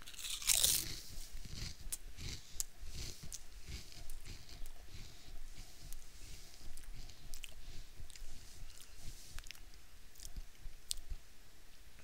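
Someone chewing Herr's Fire Roasted Sweet Corn potato chips, with a sharp crisp bite near the start followed by a steady run of close, dry crunches and clicks, and no talking.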